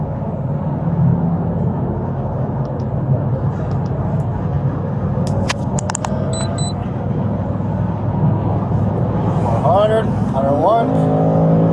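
Steady road and engine noise from a car at speed on the 429 northbound highway, passing another vehicle, a continuous loud rumble with someone talking over it.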